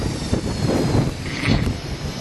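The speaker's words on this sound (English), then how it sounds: "There's a jet off in the distance." A distant jet aircraft around the deck of the aircraft carrier USS John C. Stennis, heard as a steady, broad, rushing roar mixed with wind that swells slightly midway and never stops.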